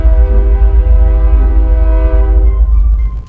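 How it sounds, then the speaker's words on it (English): A train sounds its horn just before departing, a loud, close, sustained tonal blast with rich harmonics over a heavy low rumble, holding for about three seconds before cutting off. "I'm waiting for the train to leave."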